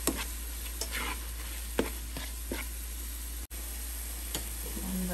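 Tomatoes frying with salt in a pan for capsicum chicken drumsticks, a steady sizzle under repeated stirring scrapes and spoon knocks, close and continuous with no talking.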